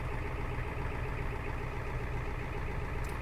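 A naturally aspirated, unmodified Ford 7.3 IDI diesel in a camper van idles steadily just after a cold start. The rumble is loud and close and continuous, with no one talking.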